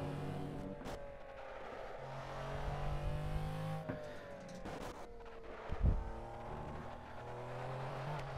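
Steady high-revving engine of the McLaren F1 GTR Longtail racer in Project Cars, pitch climbing and easing through shifts, with a brief thump and tire noise midway, loud throughout.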